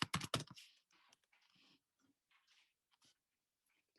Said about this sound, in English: You've seen me typing all of these commands in.